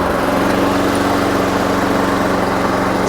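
A rough-running lawn mower engine, its carburetor treated with Seafoam, runs close and loud with a steady, continuous drone and no talk over it.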